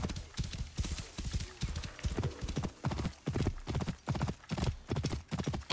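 Steady, rhythmic clip-clop of horse hooves close by in the video game Assassin's Creed Origins, a brisk trotting beat that continues throughout with a faint whinny-like tone in the background.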